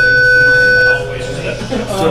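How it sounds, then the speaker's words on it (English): A building fire alarm under test gives a loud, steady electronic buzzing tone for about a second, then cuts off while people keep talking. "I'm just testing the fire alarm."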